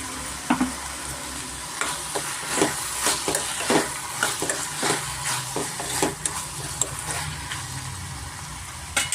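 Vegetables frying with ground masala for hotel-style vegetable sagu hiss in a pan while a spatula scrapes and taps through a steady close sizzle, with a low hum beneath.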